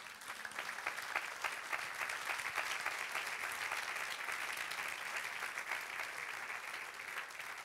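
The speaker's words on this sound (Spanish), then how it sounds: "Dale aplauso al Señor." A church congregation applauds steadily, a dense sustained clatter of many hands that holds at an even level throughout.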